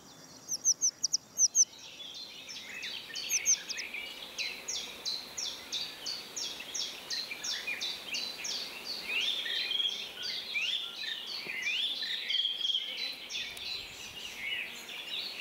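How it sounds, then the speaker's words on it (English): A golden oriole sings in riparian forest along the Vistula near Warsaw, its repeated fluting phrases carrying at moderate distance amid a chorus of other songbirds, with high chirps early on. "you can still hear the golden oriole, a relatively common species in the riparian forests"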